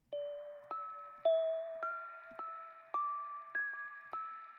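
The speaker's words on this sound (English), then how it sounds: "So I went in Omnisphere and I found this sound." Eerie, creepy synth melody from an Omnisphere patch, bell-like tones struck roughly every half second and each ringing out with a slow decay, the notes stepping through a simple repeating line, clear and alone with no talking.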